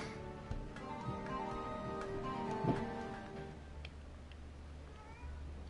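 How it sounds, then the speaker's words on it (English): Many cats meow in the LEGO Bricktales video game, layered harmonic cries over a steady game background, one louder call near the middle. "So many cats!"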